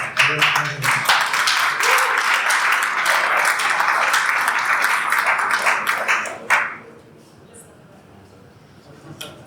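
Audience at a startup pitch night applauding, a loud, full burst of clapping with sharp individual claps that fades out abruptly after about six seconds, leaving a quiet room.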